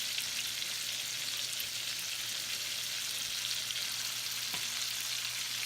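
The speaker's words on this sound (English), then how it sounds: "I've turned the shrimp, and they're cooking pretty well" Shrimp seasoned with garlic fry in a pan in a steady, close hiss of sizzling oil that holds constant throughout, with one faint clink near the end and no talking.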